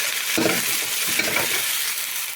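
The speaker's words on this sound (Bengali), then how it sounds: "এখন আলু আর বাঁধাকপি দিয়ে দিচ্ছি। এখন দেওয়ার পর নেড়ে নিতে হবে।" Potato and cabbage being stirred into frying onion, chili and garlic for khichuri tempering, with a steady sizzle under scraping spoon strokes in the pan.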